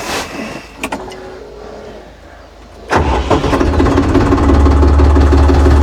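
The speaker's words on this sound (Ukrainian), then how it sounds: "Трьохциліндровий двигун є трьохциліндровий двигун. От чуєте зараз звук." A tractor's three-cylinder engine cranks and catches, then runs with a loud, steady chugging rumble close by after a few quiet clicks.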